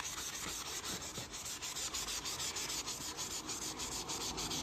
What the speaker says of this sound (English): Have at it with the sandpaper, and I'm not going crazy, I'm just getting the worst off.